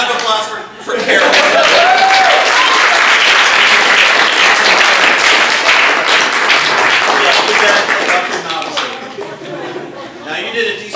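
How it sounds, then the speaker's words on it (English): An audience at a live comedy show in a gallery bursts into loud, sustained applause with clapping and some cheering, fading slightly toward the end. "Round of applause for Carol."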